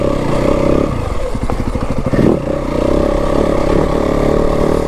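A Yamaha WR 250F four-stroke dirt bike rides a single track trail in second gear, its loud close engine droning steadily, then dipping into a brief clattering, pulsing stretch before the drone picks back up.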